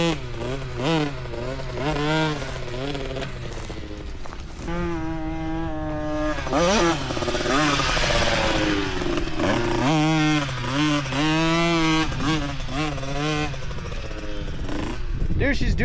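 A dirt bike rides laps on a track, its engine revving and dropping in rising and falling pitch sweeps, moderately distant, while people talk nearby throughout.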